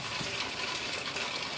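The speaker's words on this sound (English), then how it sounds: "it's pouring down rain" Heavy rain pours down as a dense, steady hiss with no breaks, fairly loud and close.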